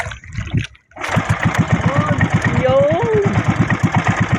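A pull-start boat engine on a small fishing trip catches after a brief silence and settles into a loud, close, steady chugging idle, with a voice speaking over it.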